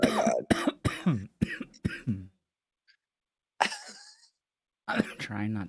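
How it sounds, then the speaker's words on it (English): Coughing from a man mid-conversation, several harsh bursts at close range interleaved with talk, followed by a quiet pause and more speech. "He said, stop coughing."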